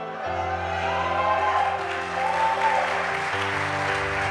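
An audience claps at a motivational career talk, a dense, steady round of applause over sustained low musical tones, fairly loud and close throughout.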